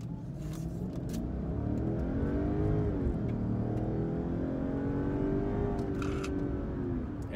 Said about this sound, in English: I'm just going to floor it.